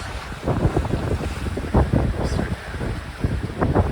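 A Dufour 530 sailboat under way at sea, with gusty wind buffeting the microphone and water rushing and slapping against the hull in uneven surges, loud and close throughout.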